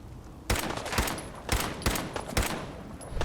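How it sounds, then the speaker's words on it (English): Pipe pistol firing in the video game Fallout 4: five sharp, loud shots at an uneven pace, each followed by a short echoing decay. "we're gonna just use the pipe pistol on the rest of them"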